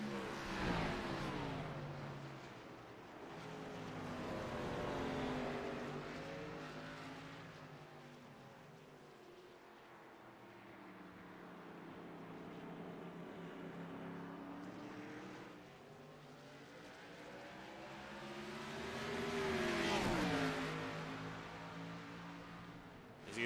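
Stock cars in a racing video game, set at Mid-Ohio, drone past in a tight pack of three, the engine tones rising and falling in long sweeps as they approach and pull away, fairly quiet and without talk.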